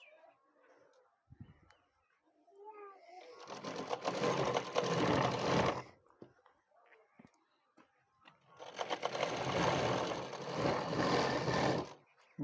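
A sewing machine stitches a suit in two long, loud bursts of steady whirring, separated by quieter pauses with faint background sounds.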